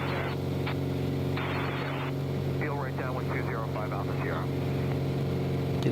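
A Piper Arrow's propeller engine drones at a steady pitch during takeoff in Microsoft Flight Simulator 2020, with someone talking over it.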